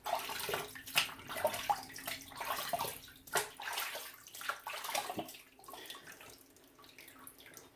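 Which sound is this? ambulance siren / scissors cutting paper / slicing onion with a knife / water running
water running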